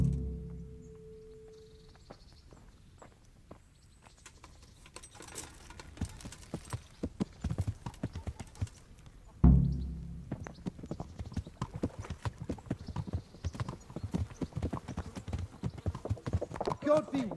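Horse hooves clip-clop in a steady riding rhythm in the video game Kingdom Come Deliverance, close and fairly loud, with a sharp thump partway through.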